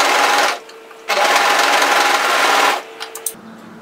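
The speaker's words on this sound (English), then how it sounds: "we're going to go to our overlocker now and tidy that edge up before we go any further" Overlocker serging the edge of a fabric top, two loud sustained bursts of fast motor hum from close by, separated by a short pause and followed by a few small clicks.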